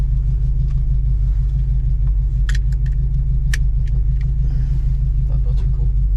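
A car fitted with a 600HP LS engine idles with a deep, loud, steady rumble close by, while small clicks and jingles sound over it.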